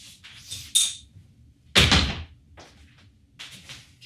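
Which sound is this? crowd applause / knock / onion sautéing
knock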